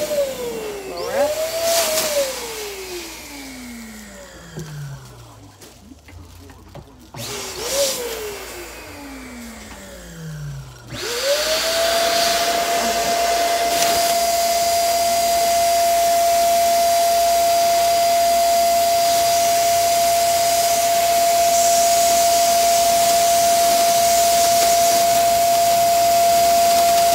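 An electric balloon blower pushes air into an Orb balloon, with two motor run-ups that fall away and then a loud, steady whine and rushing air that holds for about sixteen seconds up close.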